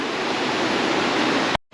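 Dense, steady rush of water flowing in a mountain stream in New Hampshire or Vermont, loud and close with no breaks, cutting off abruptly near the end.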